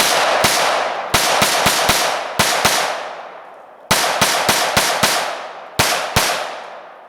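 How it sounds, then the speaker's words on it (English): Newly bought guns fired outdoors in quick strings, sharp loud cracks in irregular clusters, each shot trailed by a long echoing decay, with short pauses between bursts. "Well, you loaded them, you shoot them."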